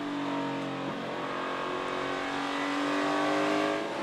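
NASCAR stock cars roar around the Richmond short track, a dense, steady engine drone with layered pitches from several cars at racing speed, loud and continuous with no voices.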